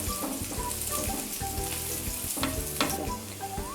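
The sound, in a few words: chopped garlic frying in oil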